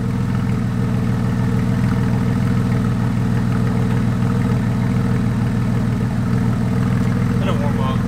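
Porsche 996 engine with a muffler bypass, loud and close, holding a steady rumbling idle throughout with a constant low-frequency drone and no clear rev peaks.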